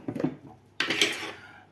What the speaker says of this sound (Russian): насыпаем 2 ложки, вот такие хорошенькие ложечки сахара